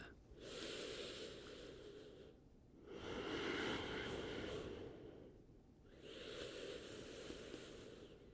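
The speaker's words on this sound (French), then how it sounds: "Et je respire." Slow, deep breaths during a yoga stretch in a morning routine for endometriosis, three long airy inhale and exhale cycles, close and soft with brief pauses between them, no talking.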